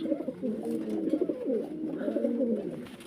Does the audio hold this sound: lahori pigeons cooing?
yes